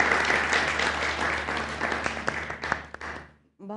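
Audience applause welcoming poet Yasmeen Hameed at an Eid mushaira, sustained clapping that thins out and fades to near silence at the end.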